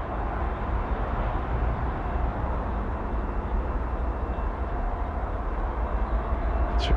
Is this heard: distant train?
yes